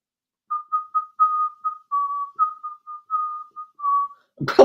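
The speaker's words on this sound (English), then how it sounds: "I can whistle that Gremlin song" A person whistles the Gremlins theme: a clear, close, bright melody of short and held notes runs alone for about four seconds, ending with a brief noisy bump.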